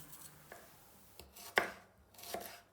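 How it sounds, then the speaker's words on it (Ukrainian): Apples are chopped into slices with peel and core on a cutting board in a kitchen, giving several sharp, close knife knocks at an uneven rhythm, fairly quiet, with no talking. "Яблука нарізаємо на скибочки разом з шкіркою і серцевиною"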